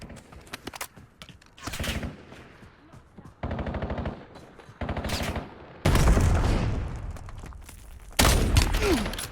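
Automatic gunfire in Call of Duty: Warzone comes in several loud, sustained bursts of rapid shots separated by short pauses. The bursts grow heavier toward the end, with faint in-game radio chatter between them.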